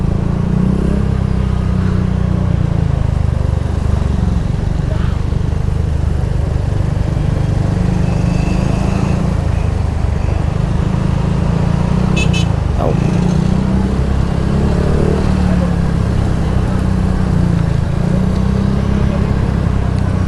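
Steady engine drone of a Honda Click 125 V3 scooter riding through congested traffic near a market, with low rumbling hum throughout, brief higher clicks and a passing vehicle sound midway.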